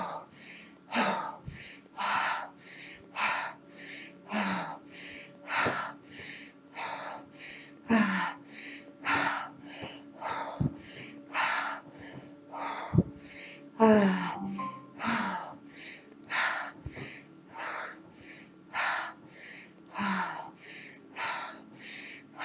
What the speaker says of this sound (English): breathing in fully, exhaling as we begin.